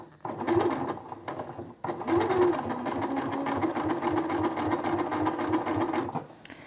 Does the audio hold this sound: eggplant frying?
no